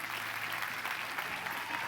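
Soft, steady applause from an audience in a hall at a doctoral graduation ceremony, a brief continuous patter of many hands heard from some distance.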